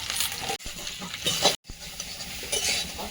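Eggplant, pointed gourd and potato going into a pan of simmering fish curry, with a steady close sizzle and frying hiss, spoon stirring and light metal clinks against the pan.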